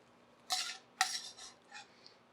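Utensils twisting angel hair pasta onto a plate, giving two distinct clinks and scrapes followed by softer metallic scraping, close and with no talk.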